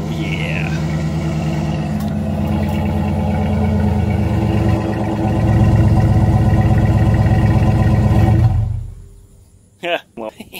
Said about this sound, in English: let's do a start. It'll be a mild start because it's not not exactly a cold start.